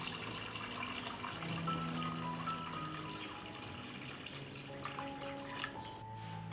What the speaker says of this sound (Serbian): Sipam vodu u šerpu do visine poklopca.